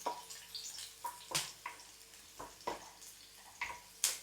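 Chopped onion frying in oil in a pan for an egg curry: a quiet, close sizzle broken by repeated wet crackles and pops at an irregular rhythm, with no talk.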